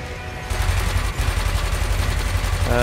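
Rapid ship weapons fire in the space combat game Elite Dangerous, a dense, continuous burst of repeated shots that starts abruptly and keeps up loudly throughout, with no talking over it.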